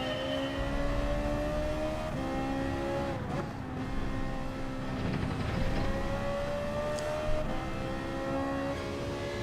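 A Ferrari engine in Gran Turismo 7 revs and climbs through gears, its rising whine repeating in steady sweeps with a mid-run shift, sounding close and constant without speech.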